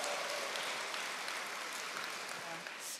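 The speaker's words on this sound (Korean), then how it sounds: "여러분을 위해서 박수 한번 칠까요?" An indoor audience at an academy seminar claps steadily for three seconds, a dense, even wash of applause from many hands with no voices.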